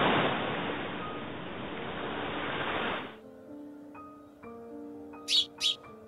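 Loud surf roars for about three seconds as high storm waves hit the beach, then cuts to quiet tonal music with two short chirps near the end.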